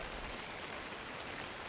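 Rain falls outdoors as a steady, even hiss of broadband noise. It is fairly faint and continuous, with no voices.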